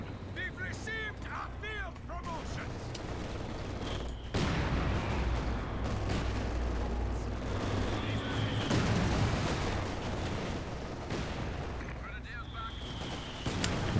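Mortar blasts and machine gun fire in Company of Heroes 2 during a 4v4 battle in Lienne Forest, with steady crackling rattle, heavy thumps and someone talking over the constant din.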